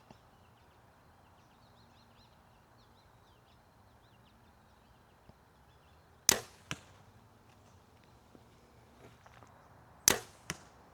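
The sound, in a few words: arrows with fixed-blade broadheads shot into target at 30 yards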